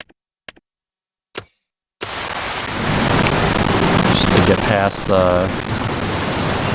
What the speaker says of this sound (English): Ooh, it's really raining. Lightning and everything.